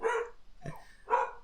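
A pet dog named Percy barks twice, short sharp close barks with a brief gap, a quick indoor outburst during a podcast recording.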